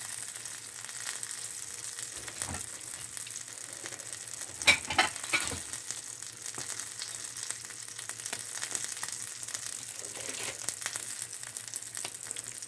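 An egg and cheese fry in a pan, a soft steady sizzle with an occasional brief scrape or stir, quiet and close, with no voices.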